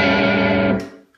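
Electric guitar through a Universal Audio Marshall Plexi amp plugin, one loud distorted chord ringing briefly, then cut off and decaying quickly to silence.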